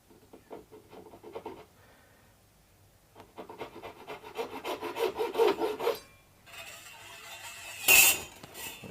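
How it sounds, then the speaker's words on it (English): A razor saw cuts nut slots on a baritone guitar build, giving rhythmic rasping back-and-forth strokes that build in intensity, then a brief sharp metallic clink near the end. "Let's go on to the razor saw. And use the razor saw to mark the"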